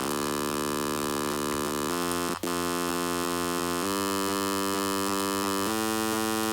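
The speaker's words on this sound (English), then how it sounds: "This is just a saw wave" A buzzy, bright synthesizer sawtooth tone holds steady, stepping to a new pitch every couple of seconds with a brief click partway through.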